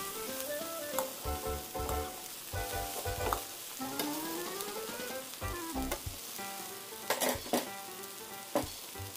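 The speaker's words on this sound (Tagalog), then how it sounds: "Haluin natin sila mabuti." Pancit canton with pork liempo, squid balls and kikiam tossed in a hot pan, sizzling steadily under repeated scraping and clanking of a utensil against the pan.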